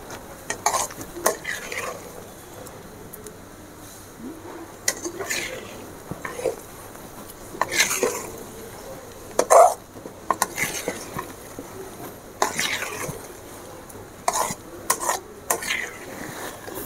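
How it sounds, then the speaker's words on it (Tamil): Banana halwa being stirred with ghee in a pan, with repeated scraping and clinking of a spoon against the metal every second or two over a faint sizzle, close and fairly quiet. "நெய்யெல்லாம் ஊற்றி அப்படியே கிண்ட வேண்டியதான்"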